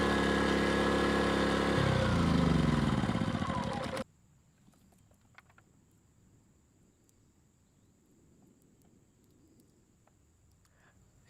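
Erayak 4500PDE generator engine running under load, a steady loud drone that shifts pitch as the load comes off, then cuts out abruptly, leaving near silence with a faint steady high whine.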